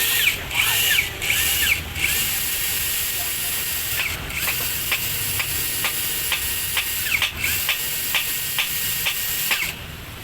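A three-function cordless battery drill for drilling iron and walls whirs in short, repeated bursts, starting and stopping several times at close range.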